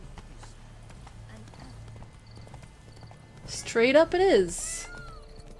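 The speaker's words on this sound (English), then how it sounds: "There's my horse. Come, horse." A horse in The Witcher 3 gives a loud whinny near the end after a stretch of faint hoof clip-clops on a road, while someone talks over the game.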